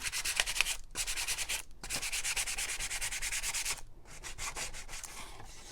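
Sandpaper rubbed over painted wood for a distressed nativity piece, quick rhythmic back-and-forth strokes with a few brief pauses, close and steady.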